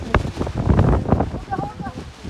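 Strong gusts of wind buffet the microphone on the road up Mullayanagiri, rumbling in low bursts with brief voices faintly underneath.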